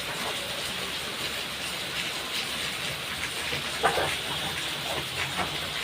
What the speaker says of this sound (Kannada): ನೋಡ್ರಿ, ಎಷ್ಟು ಜೋರು ಐತಿ ಮಳೆ.